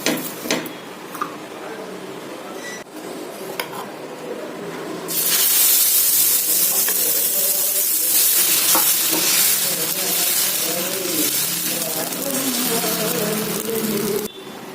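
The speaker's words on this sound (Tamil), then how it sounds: "தோசை சுட்டுடலாம்" Pearl millet dosa batter sizzles loudly on a hot griddle, the hiss jumping louder partway through and then holding steady, with light scraping and stirring underneath.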